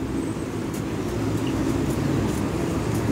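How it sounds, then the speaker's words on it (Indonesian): Congested street traffic on a busy road with a train running nearby, heard as a constant dense rumble of engines, close and steady for the whole stretch. "Rame sekali, kendaraan pada macet ya."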